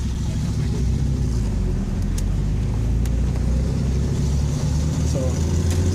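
1996 Mitsubishi 3000GT VR-4 with billet 15G turbos on pump fuel cruising normally, a steady loud engine and road rumble heard from inside the car, with faint talk.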